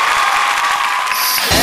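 Pub audience at a televised singing contest breaking into applause and cheering, a dense bright patter of clapping that swells louder near the end.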